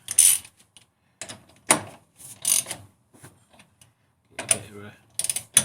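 Ratchet tightening the wheel nuts on an MG TF during a wheel swap: several short bursts of clicking, fairly near, separated by pauses, with a voice speaking briefly between them.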